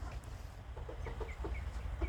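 A bantam hen clucks in a series of short, soft, evenly spaced notes near the coop at dusk, faint over a low background rumble.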